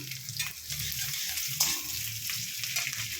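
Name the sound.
chopped garlic and slit green chillies sizzling in pan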